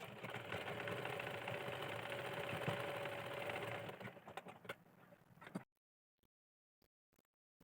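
A sewing machine stitches a collar onto a blouse neckline, its fast, even whirring hum running for about five seconds before slowing and stopping, followed by a few faint clicks.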